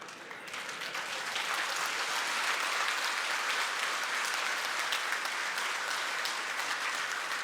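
A crowd at a public gathering in Barshi breaks into sustained applause, building over the first second and then holding steady and dense, with no talking over it.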